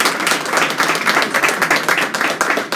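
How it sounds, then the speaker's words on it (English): Audience at a chamber of commerce networking gathering at a Hard Rock venue claps in a dense, steady round of applause, close and fairly loud throughout. "Just give them a round of applause"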